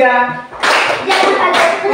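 After a brief spoken voice, a group playing a classroom clapping word game claps in three sharp, unison bursts, loud and close, each burst a short flurry of hands.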